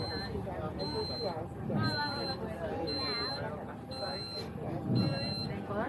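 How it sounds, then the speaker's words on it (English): Repeated electronic beeping at a steady rhythm, about one short tone per second, sounding from a tour vehicle at the Columbia Icefield while people chatter and talk in the foreground. "So do you guys all hear that beeping noise?"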